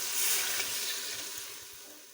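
A steady rush of water pouring into a pot of sella rice for chicken pulao, a close hissing splash that gradually fades, with no voices.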